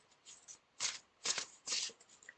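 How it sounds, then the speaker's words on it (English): Crisp bursts of oracle card shuffling, about four distinct riffles in a steady rhythm, close and clear in an otherwise quiet room. "I'm just gonna keep shuffling,"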